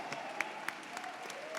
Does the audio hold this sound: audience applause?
yes